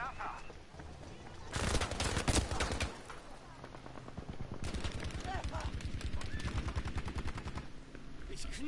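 Rapid automatic gunfire in a video game, two bursts of dense, loud shots separated by a pause, the second volley running steadily to the end.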